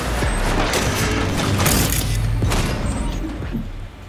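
Gunfire in Cyberpunk 2077: Phantom Liberty, loud sharp shots in pairs cracking over a rumbling, noisy game backdrop, several quick bursts close together with no talk.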